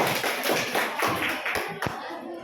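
A classroom of students claps in a short burst of quick, overlapping hand taps, fairly close and moderately loud, with a couple of sharper thuds near the end.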